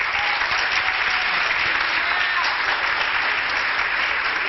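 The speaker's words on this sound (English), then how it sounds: "So a round of applause for them." An audience at a gala applauds performers with steady, dense clapping that fills the room evenly and holds at a constant loudness throughout, with no speech.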